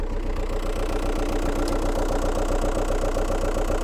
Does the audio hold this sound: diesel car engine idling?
yes